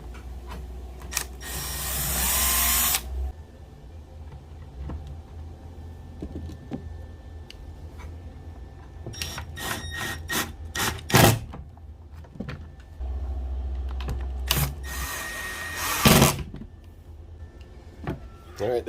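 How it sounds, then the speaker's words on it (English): A power drill makes pilot holes and drives screws while working on a modern fuel system, with two long loud whirring runs at the start and near the end and a cluster of short bursts and clicks in between. "So I'm just going to put a few pilot holes in here, and we can put our screws in"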